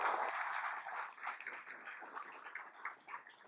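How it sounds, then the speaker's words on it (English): Faint applause rises from an audience at a regional presentation event, a steady patter of clapping that fades gradually over a few seconds. "So a round of applause, please, for Ostasia and Kristen."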